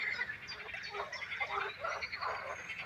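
Frogs calling in a pond during spawning season, a dense, overlapping chorus of croaks and honking calls, fairly faint and continuous.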